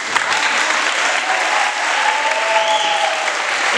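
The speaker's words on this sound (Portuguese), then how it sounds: "E eu gostaria de fazer uma salva de palmas para o Jonathan." Audience applause at a ninth-grade graduation ceremony at a municipal school, a sustained, even roar of many clapping hands filling the room, with faint voices mixed in beneath.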